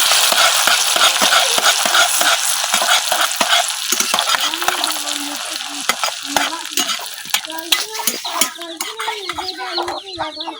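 Bay leaves, garam masala, chopped ginger and garlic fry in hot mustard oil in a village kitchen, a loud steady sizzle broken by repeated stirring scrapes, with hens clucking faintly in the background toward the end.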